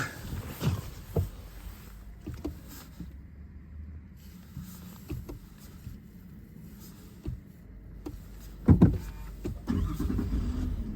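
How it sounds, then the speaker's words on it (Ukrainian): A ZIL 4331 truck fitted with a Mercedes engine starts up and pulls away, a low rumbling engine under scattered knocks and clunks, rising to a louder surge near the end, with no talking. "Все, завелось."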